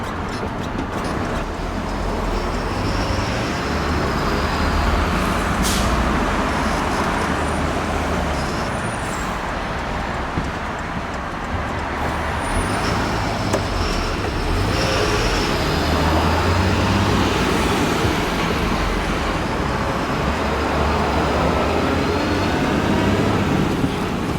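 Heavy road traffic crawling in a jam near the Meruya Utama toll gate in Jakarta, a steady loud rumble of car, bus and truck engines with occasional air-brake hisses, continuous and close, with no talking.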